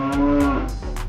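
A cow lets out a loud, close moo, a long lowing call with a steady harmonic tone, on a farm where a calf has just been born; a few faint higher sounds pass in the background.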